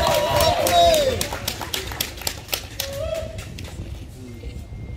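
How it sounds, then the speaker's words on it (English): Wedding guests clap during a ceremony, a scattered crowd applause with sharp individual claps that swells early, then thins into sparse claps with some voices over the top. "Can we give a round of applause?"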